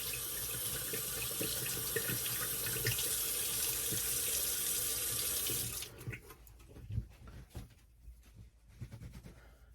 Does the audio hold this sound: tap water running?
yes